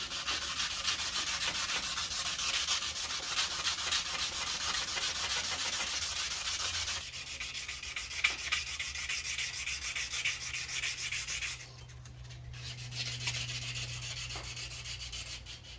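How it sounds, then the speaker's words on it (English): A steel dagger blade is sanded by hand on a piece of leather, giving a steady, continuous rasping scrub of repeated back-and-forth strokes. The strokes shift in tone partway through and briefly pause near the end, with no speech. "I'm going to go ahead and get some gloves on and start hand sanding this"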